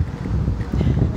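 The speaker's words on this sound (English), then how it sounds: "Sorry, it's really windy out here today." Steady wind buffets the microphone with a low, rumbling roar that gusts unevenly throughout.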